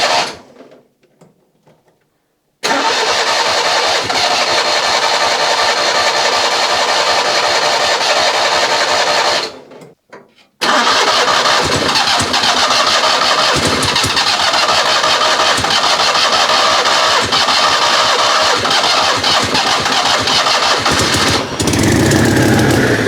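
A Citroen 2CV engine without a fitted exhaust cranks briefly, pauses, then catches and runs loud and raw with a steady rattling idle, after a short second crank.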